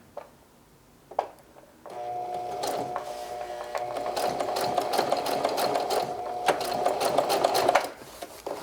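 A sewing machine stitches a denim jeans hem in a steady rapid whirring run of about six seconds, close and clear, after a couple of isolated clicks at the start, ending with a brief stop.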